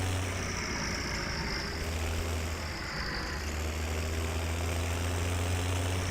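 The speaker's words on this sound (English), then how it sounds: "This tractor then will have its trailer dropped off and will go" A tractor engine in Farming Simulator 17 drones steadily at a low idle-like hum, continuous and even in level throughout, with no talking over it.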